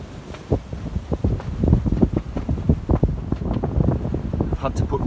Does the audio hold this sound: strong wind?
yes